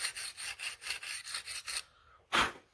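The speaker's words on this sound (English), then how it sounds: "So I am sharpening my Revo Beserk, my QSP Copperhead, and my Honey Badger Warncliffe sheep's foot." Rhythmic rasping strokes of a blade drawn across a sharpening stone, about ten steady passes, while Revo Beserk, QSP Copperhead and Honey Badger Warncliffe sheep's foot knives are sharpened; a sharper scrape follows after a brief pause.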